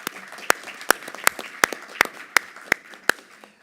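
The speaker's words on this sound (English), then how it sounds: "Let's give them all one final round of applause." A sparse round of applause from a workshop audience at a civil society forum, with scattered sharp, distinct claps from a few nearby hands at an irregular quick pace.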